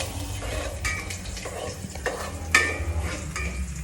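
Onion and garlic sauté in a pan, a busy near sizzle mixed with scraping stirs and light clinks of a utensil against the pan, one sharper clatter standing out midway.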